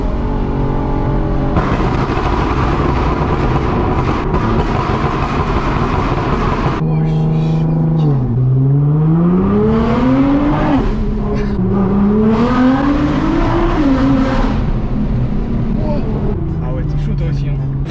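A Nissan GTR roars loudly through a tunnel, its engine droning then sweeping up and down in pitch as it revs and accelerates, with reverberant exhaust noise filling the space and voices talking over it.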